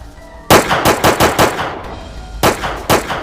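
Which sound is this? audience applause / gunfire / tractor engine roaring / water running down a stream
gunfire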